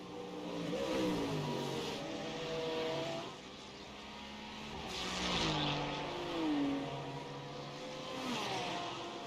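GT3 race cars in a sim racing championship roar down Conrod Straight at Mount Panorama, engines rising and falling through gear changes as several cars pass in succession, loud and continuous.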